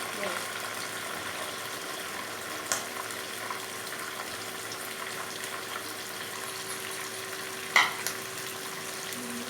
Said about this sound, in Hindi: अब ये प्याज डालकर इसको 2 से 3 मिनट तक मज़ीद फ्राई करना है